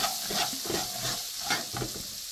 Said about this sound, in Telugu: చిన్న చిన్న ముక్కలుగా కట్ చేసి పెట్టుకున్న క్యారెట్ కూడా వేస్తున్నాను